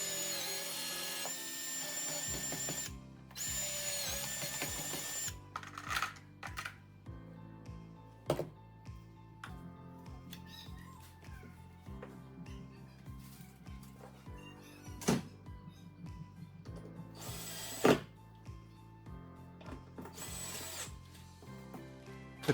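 Power drill pre-drills a painted wooden block in bursts, a whirring motor winding up and stopping several times with small clicks and knocks between runs, close by.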